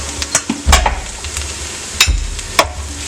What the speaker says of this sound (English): we'll try to stir it for a few seconds until the raw smell of ginger garlic goes away